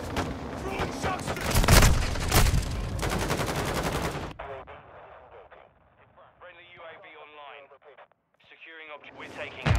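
Bursts of rapid automatic gunfire and booming shots from a Call of Duty: Modern Warfare II battle, loud and dense at first, then quieter amid radio-style voices calling out objectives.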